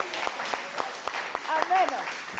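Church audience applauding for mothers at a Mother's Day service, steady clapping with rhythmic beats, and a voice speaking and calling out over the applause.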